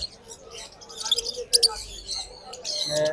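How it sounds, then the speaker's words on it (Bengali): Small caged birds at a bird market give scattered bright chirps and tweets in short bursts, close by, amid busy market background noise. "এই যে পাখিগুলো যে দেখতে পাচ্ছেন, যে এই পাখিগুলো অনেক অনেক সুন্দর লাগতেছে"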